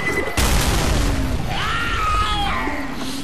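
A grenade explodes in the zombie shooter Left 4 Dead 2, a sudden loud boom that is followed by screeching, shrieking game sounds and clattering debris.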